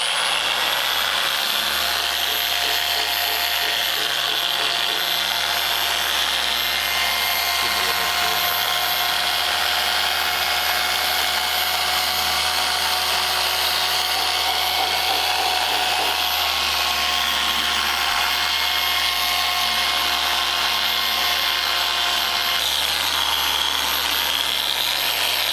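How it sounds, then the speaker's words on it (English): A small car polisher buffs the body of a 1934 Ford Tudor hot rod, giving a steady high-pitched motor whine that runs continuously and close up with no talking over it. "so Kevin swapped to a smaller polisher here to get into the tight areas"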